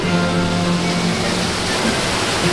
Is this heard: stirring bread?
no